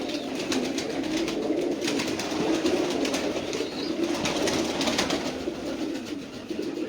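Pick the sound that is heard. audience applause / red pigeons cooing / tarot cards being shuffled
red pigeons cooing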